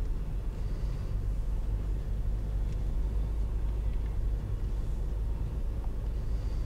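A 2011 Mercedes-Benz E350 Wagon 4Matic pulls away, its engine a steady low rumble that stays even and moderately loud throughout, heard from inside the cabin with no talking.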